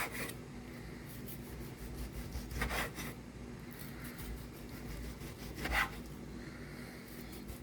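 A knife slices through a smoked beef roast, making soft, close rasping cuts in a few slow strokes with brief louder pulls, over a faint steady background hum.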